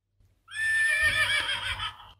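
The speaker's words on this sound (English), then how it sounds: "Oh, can I listen to a horse?" A horse gives one loud, high whinny that quavers for over a second and trails off, followed by a brief sharp click.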